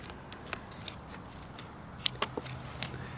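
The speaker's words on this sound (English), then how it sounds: "Then I go ahead and cut it." Scissors snipping through a fat bike tire liner, a series of crisp close cuts spaced irregularly, a few louder than others, over light background noise.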